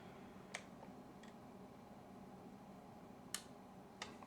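A few faint, sharp mechanical clicks from a 620 film camera cocking sound sparsely against a quiet background hiss, spaced irregularly with no talking.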